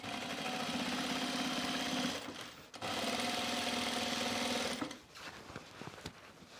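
Close, steady whirr of a sewing machine topstitching a side seam on pants, running in two long continuous passes separated by a short pause, then stopping.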